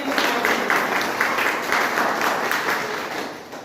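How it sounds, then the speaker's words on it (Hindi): Loud, sustained applause from a crowd, dense clapping that holds steady throughout before easing slightly at the end. "में चाहूंगा जोरदार तालियां।"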